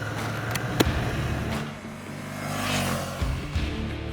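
A 2022 Ducati Scrambler motorcycle engine runs at low RPM, below 2000, pulling steadily in a high gear with a continuous low rumble and faint wind noise throughout.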